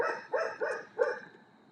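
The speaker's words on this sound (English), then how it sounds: "The dog's name is Duster." A dog barking indoors: three short, sharp barks in quick succession at moderate distance, with a faint background hum.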